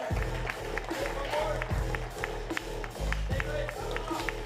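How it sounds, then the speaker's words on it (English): Audience at a 2024 Nordic street workout championship claps and cheers steadily, a dense wash of applause with scattered shouts and a voice over the top. "Let's have a big round of applause for Mac."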